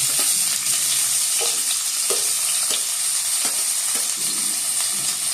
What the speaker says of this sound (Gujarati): થોડીક આપણે હિંગ નાખી દઈએ, થોડું જીરું સ્વાદ પ્રમાણે, મીઠો લીમડો ને ડુંગળી